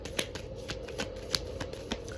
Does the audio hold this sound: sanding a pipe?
no